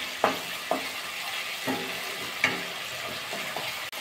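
Spice masala frying in oil for a vegetarian cauliflower dish with peanut, a steady close sizzle broken by several sharp spatula scrapes and clacks against the pan, no talking.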